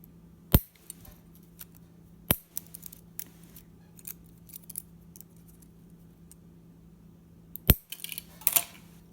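Scissors snip the ends off zip-ties in three sharp, isolated clicks spread over several seconds, with small plastic rattles and clinks between them over a low steady hum.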